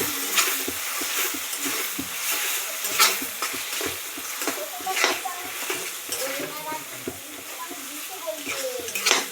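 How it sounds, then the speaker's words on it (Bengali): Young jackfruit curry with green chillies is stirred in a pan: a continuous close sizzle broken by repeated scraping strokes and light clinks of a spoon against metal, fairly loud throughout. "কাঁচা লঙ্কা চিড়ে নিয়েছি সেটা দিয়ে দিচ্ছি এবার একটু ভালোভাবে নাড়তে থাকবো"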